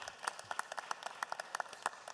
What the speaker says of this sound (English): I just ask everybody to give them a big round of applause.